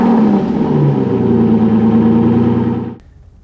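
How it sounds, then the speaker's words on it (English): A 2014 Aston Martin Vanquish starts up in a garage with a loud, deep engine roar that rises briefly, holds a strong rumbling idle, then cuts off abruptly near the end. "2014 Vanquish, when I start that car up in the garage,"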